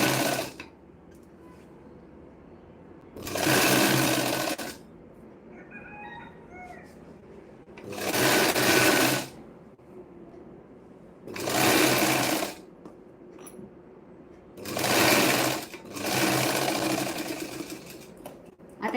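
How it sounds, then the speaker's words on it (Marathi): A sewing machine stitches a blouse shoulder cover in about five sustained runs, each a few seconds long, separated by quieter pauses with faint room noise. "शोल्डरला त्या हिशोबाने मी शिलाई मारून घ्यायची"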